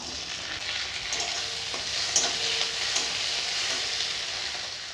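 Black cumin, dried chilli, chopped onion and tomato fry in oil in a kadai, a steady, moderate sizzle with occasional stirring scrapes and a couple of sharper clinks.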